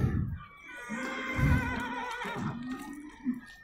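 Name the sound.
horse neighing, a mare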